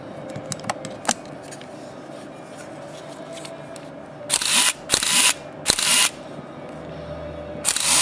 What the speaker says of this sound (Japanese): シャッターも快調に動いてますね。